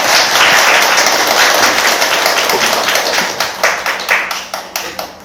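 An audience at a lecture gives a speaker a loud round of applause, dense and fairly close at first, then thinning into scattered individual claps toward the end.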